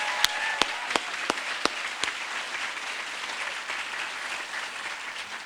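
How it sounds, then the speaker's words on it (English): Crowd applause at a public library ribbon-cutting ceremony, a steady wash of clapping with a few sharp, louder claps standing out near the start before it settles into an even, sustained roar. "So can you all give her a round of applause?"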